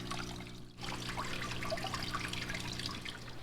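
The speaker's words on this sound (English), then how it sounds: "So we've got the water here going" Water flows and trickles steadily through a gold pan at a placer mining spot in the Sierra Nevada mountains, a continuous close splashing wash with a brief dip near the start.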